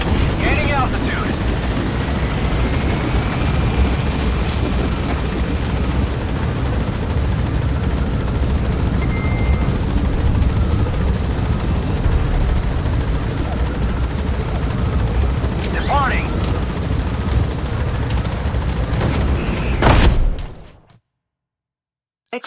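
A helicopter in Metal Gear Solid V climbs with a loud, steady, dense rotor and engine roar that holds for about twenty seconds, then cuts off abruptly into near silence.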